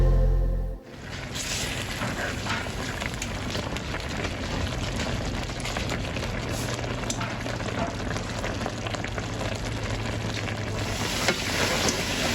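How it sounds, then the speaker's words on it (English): Sauce thickened with cornstarch slurry bubbling on the stove, a dense, steady crackle and hiss of boiling that starts abruptly and keeps going at an even level. "I put it back on some heat just to keep it boiling to help it thicken"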